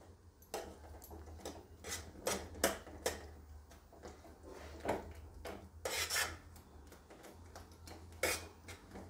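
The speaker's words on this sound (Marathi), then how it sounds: "चमचा आपला गोल फिरवून पूर्ण असं मिक्स करून घ्यायचं छानपैकी" A spoon circles through pithla (chickpea-flour batter) in a pot, making repeated scraping rasps and light metallic clinks in an uneven rhythm, close and fairly quiet.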